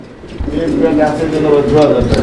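Pigeons coo softly at a pigeon farm, faint under steady talking and background chatter nearby.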